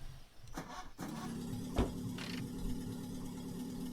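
A car engine in the video game The Long Drive cranks with a few quick clicks and a thump, then catches and settles into a steady low idle hum, fairly quiet and unaccompanied by talk.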